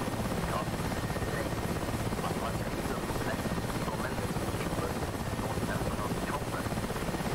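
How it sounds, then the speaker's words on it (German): A helicopter in the DCS World flight simulator gives a steady, unbroken rotor and engine drone that fills the whole stretch with no clear pauses. "Ja, das ist wohl der Helikopter, in dem der drin war."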